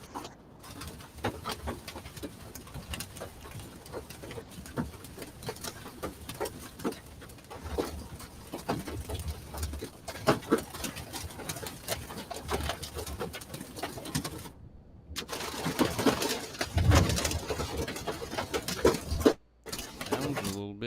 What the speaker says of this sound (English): starting to get some hail now, David.